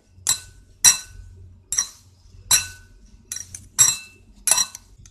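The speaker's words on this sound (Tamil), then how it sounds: "இது மாதிரி ரெண்டு ஃபோர்க் வச்சு லைட்டாக அப்படி டாஸ் பண்ணி விடுங்க" Two forks tossing crispy fried spinach in a dish, giving about seven light, bright clinks at an uneven rhythm, close by and with no talk.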